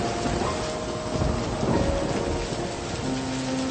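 Heavy rain pours in a steady, dense roar with low thunder rumbling underneath, continuous and loud throughout with no voices.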